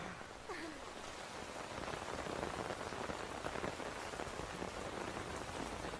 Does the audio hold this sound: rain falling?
yes